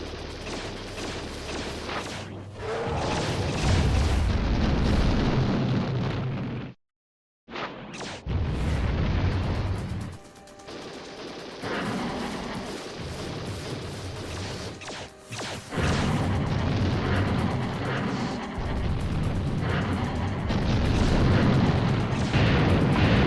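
Heavy video-game explosions as a communications relay station is destroyed: loud, rumbling booms and crashing blasts, one after another, with a brief silent gap before more detonations roll on.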